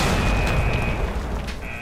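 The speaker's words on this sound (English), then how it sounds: "I'm gonna try throwing a grenade out there." A grenade explodes in the S.T.A.L.K.E.R. Shadow of Chernobyl game with a loud, sustained boom and rumbling blast that fills the whole moment, followed by a brief crackling tail.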